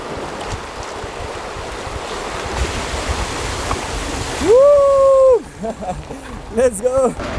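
A vehicle fords a river on a track in Iceland, with steady rushing water heard throughout and a voice briefly calling out near the end.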